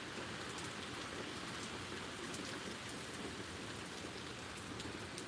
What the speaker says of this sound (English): It's raining more in the front than it is the back